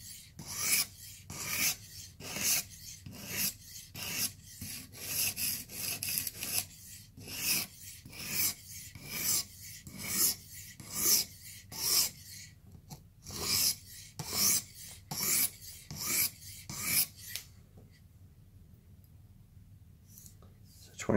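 Knife edge drawn repeatedly across a Blitz 360 sharpener to remove the burr, giving steady rhythmic raspy scraping strokes, close and clear, about two dozen passes before stopping into near silence at the end.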